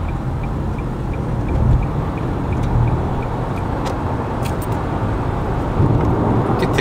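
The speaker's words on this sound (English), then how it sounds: "Good thing this thing can accelerate pretty quickly" A 2018 Nissan Leaf electric car on the road, heard as a steady low rumble of tyre and road noise with a faint repeating tick above it, continuous and fairly loud, with no voices.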